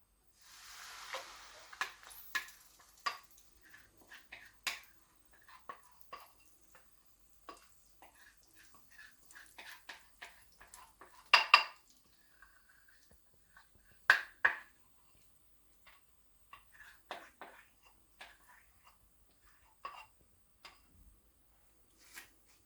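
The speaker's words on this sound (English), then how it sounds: "So I've taken 2 tablespoons of ghee, which is melted. Now I'm going to add our mixture in it." Burfi mixture goes into two tablespoons of melted ghee in a pan, giving faint scattered sizzles, pops and scraping stirs, soft and intermittent with quiet gaps between them.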